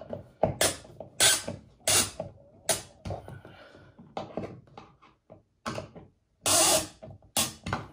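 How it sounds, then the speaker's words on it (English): A ratchet wrench tightens a nut on a kayak transducer mount, close clicking and creaking strokes in irregular bursts with brief pauses between, some louder rasping pulls, no talking. "So once you get this wrench down nice and tight,"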